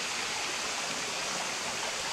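Steady, dense rush of a mountain waterfall and clear flowing stream, continuous broadband water noise at moderate level with no voices.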